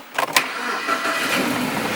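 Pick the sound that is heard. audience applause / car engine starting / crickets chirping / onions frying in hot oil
car engine starting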